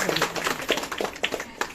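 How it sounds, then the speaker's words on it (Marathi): Audience applause for Yuvraj at a local development-fund event in Bopodi, Pune: a crowd claps in a steady patter of hand strikes for a couple of seconds, fairly close and dense. "आपण युवराजजींसाठी सगळ्यांनी टाळ्या वाजवल्या पाहिजे"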